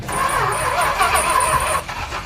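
1966 Ford Econoline van with a tuned-up 440 engine starting up, a brief cranking churn that catches into a loud rough idle, close by.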